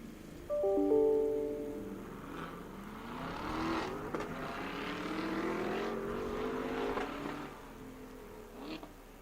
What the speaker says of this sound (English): First run group of cars on track right now.